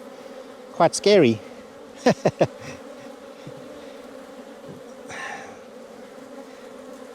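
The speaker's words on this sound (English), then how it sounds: "this is the most bees I've ever seen in my face" A swarm of bees buzzes loudly and closely around a novice beekeeper's face on a Portugal farm, a sustained drone beneath a few brief spoken words and short sharp exclamations.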